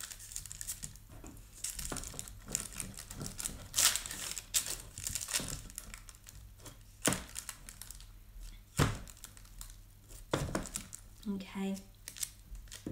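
Greaseproof paper crinkled and rustled by hand over sticky salt dough, a run of close crackling and crumpling bursts with sharp snaps, plus brief speech near the end.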